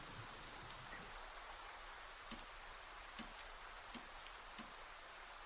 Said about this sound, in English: And, oh, it's raining.